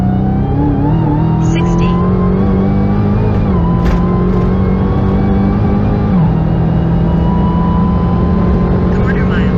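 A 2021 Dodge Charger Hellcat Redeye Widebody on Toyo R888R tires accelerating hard off idle in track mode, a loud supercharged engine note climbing steadily through the gears from close by, with brief spoken words during the run.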